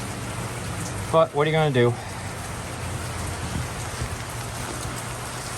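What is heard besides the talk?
rain falling outdoors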